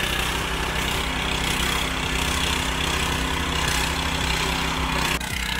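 A FIRMAN FTL620 mini cultivator's engine runs steadily while plowing soil, a loud, continuous low drone with a regular throb that holds constant before a slight dip near the end, with no talk over it.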